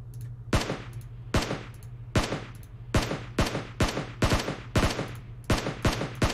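Rapid bursts of gunfire in the mobile battle game PUBG Mobile, about eleven sharp, loud shots at a steady, slightly uneven pace over a low constant hum, with no one talking.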